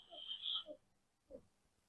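A person hums with the nose and mouth closed to imitate a frog's croak, making a faint nasal buzz, then a short low grunt a moment later.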